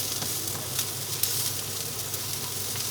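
Meat sizzling in a warm pan on a hob with very little oil: a steady, fairly quiet hiss and crackle with no talking over it.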